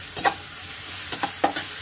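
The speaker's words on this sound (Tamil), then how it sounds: "கொஞ்சம் கிளறி விட்டுக்கோங்க." Chopped onions frying in oil for egg fried rice are stirred, giving a few quick scraping strokes over a soft sizzle, close by and without speech.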